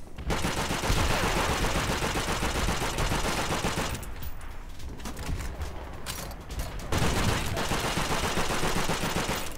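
Rapid automatic gunfire rattles in bursts during a Call of Duty: World at War PC multiplayer match, loud and dense, with a brief lull in the middle before firing resumes.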